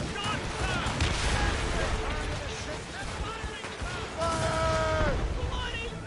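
Ship cannons fire in Assassin's Creed Rogue, booming blasts mixed with crashing impacts over constant sea and battle noise, while crew voices shout orders.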